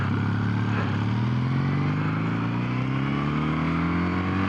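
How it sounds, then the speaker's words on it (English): Kawasaki W800 motorcycle engine accelerating up to speed on a rough road, a close, loud exhaust note rising steadily in pitch through the gears, continuous throughout. "Now we get to actually accelerate up to speed here."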